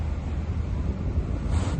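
Wind blows steadily beside open water, a continuous rumbling rush with some microphone buffeting, loud and close throughout with no talking.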